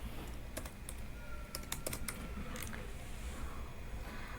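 Light, quick keystrokes on a computer keyboard while code is typed for a React to-do list project, coming in short irregular clusters of clicks over a soft steady background hiss.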